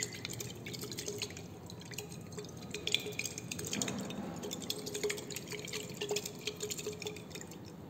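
Aspirin solution shaken vigorously inside a glass conical flask, giving a steady run of soft liquid sloshing and small drips and clinks close by, with no talk.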